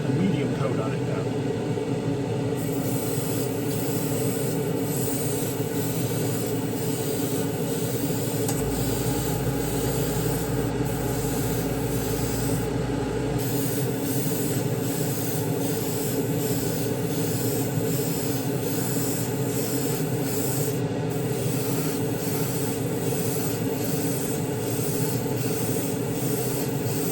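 Gaahleri Kaleido paint sprayed in a medium coat from an airbrush, a steady hissing rush of air that runs continuously throughout with a low rumble beneath it.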